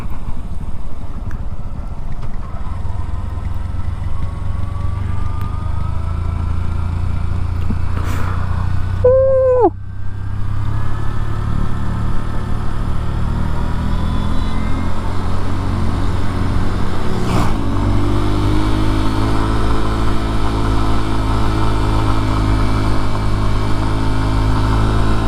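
Honda Hornet 2.0 motorcycle engine labouring uphill on a hill road toward Rajesthali, a steady mid-pitched drone that rises in revs after a gear change midway, with wind noise and a brief horn-like tone.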